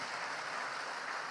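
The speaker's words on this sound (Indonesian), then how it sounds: "Tepuk tangan untuk PKS." A crowd claps for PKS at a political speech, a dense, even patter of many hands heard from a distance, fairly faint and steady for the whole short stretch with no talking over it.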